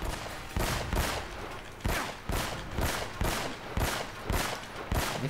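Repeated M16 rifle shots in the video game Uncharted, fired in a steady run of sharp, loud cracks roughly every half second, with no talk.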